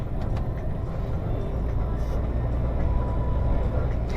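A truck rolls past on a road, a steady low engine rumble and tyre roar staying close and even throughout, with no talk over it.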